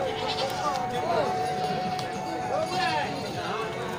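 Several goats bleat one after another over a busy outdoor livestock market crowd, with people talking throughout and a few hoof steps nearby.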